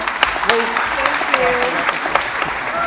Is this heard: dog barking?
no